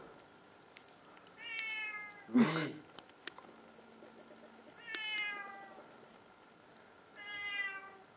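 A cat meows three times with long, drawn-out calls spaced a few seconds apart, over a quiet background with faint insect chirps and a brief spoken word.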